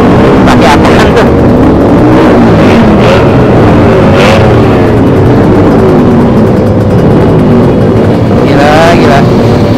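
A street race car at Polda Metro Jaya revs hard at high RPM, a loud, dense, continuous engine roar right by the microphone, with people talking excitedly over it.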